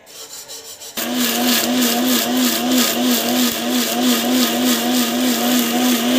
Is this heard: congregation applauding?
no